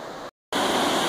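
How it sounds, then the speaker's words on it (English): Loud, steady rushing water of a river beside a lush, dense Northwest rainforest trail, a continuous broadband roar that drops out briefly for a moment of silence before resuming at full strength. "beautiful river"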